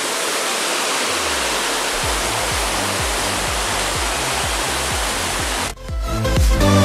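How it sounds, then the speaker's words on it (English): A small waterfall in Plitvice Lakes park roars in a steady, dense rush of falling water, loud and close, with low thumping bumps underneath. "Look at this little waterfall."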